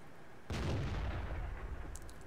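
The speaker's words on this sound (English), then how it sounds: "again another beautiful shot sneaked in" A tank's main gun fires once in World of Tanks, a sudden loud boom with a long rumbling decay, alone with no talk over it.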